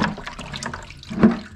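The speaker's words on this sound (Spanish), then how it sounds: "La enjuagamos con el agua limpia." Clean water runs over a spray-paint respirator mask being rinsed by hand, a close splashing trickle with a brief louder gush near the end.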